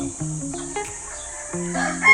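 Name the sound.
rooster crowing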